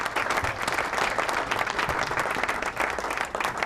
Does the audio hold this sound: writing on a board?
no